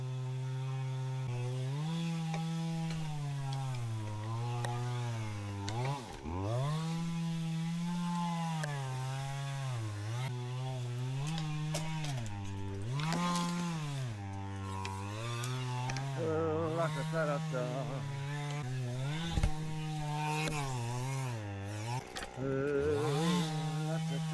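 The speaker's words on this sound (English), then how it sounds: "If you can hear me with the old chainsaw going in the background." A chainsaw drones steadily nearby, its engine pitch rising and dipping as it revs and bogs, running continuously throughout.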